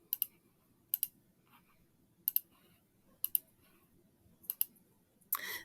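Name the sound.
mouse clicking on website edit links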